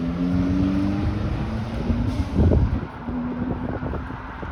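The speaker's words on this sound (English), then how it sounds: "The car has kind of a powerful engine." A steady low vehicle engine rumble with some wind noise, a brief louder surge midway, no talking.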